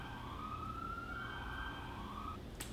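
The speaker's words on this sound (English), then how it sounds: "Hold for siren." A siren wails in a long rising and falling tone over a steady low traffic rumble, moderately distant, with a brief click near the end.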